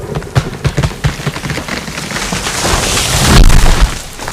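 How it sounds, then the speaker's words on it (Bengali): Storm and heavy rain effect in a horror audio drama: loud dense rainfall with low thudding rumbles and gusts that swell toward a heavy roaring peak, no voices. "বাইরে ঝড় বৃষ্টির তীব্রতা আরও বেড়েছে"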